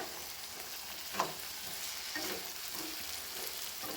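Pulao ingredients cooked in sugar and oil fry with a soft, steady sizzle, broken by a few faint stirring clicks and scrapes.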